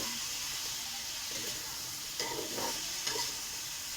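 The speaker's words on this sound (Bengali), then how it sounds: "অল্প করে আমি হলুদ দেবো, দিয়ে আমি ভালো করে নাড়বো, একটু করে কষাবো।" Bitter gourd and prawns with turmeric being stirred in a pan, a steady close sizzle of frying with soft scraping stir strokes breaking through now and then, no voices.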